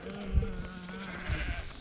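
A flock of sheep being herded along a road, with two short bleats standing out near the start and later against a steady background of mixed noise.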